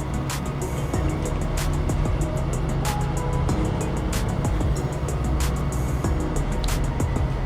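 A truck in the off-road driving game SnowRunner rolls out of its garage, a steady, loud engine drone with low rumble and periodic clanks and ticks running throughout, no talking over it.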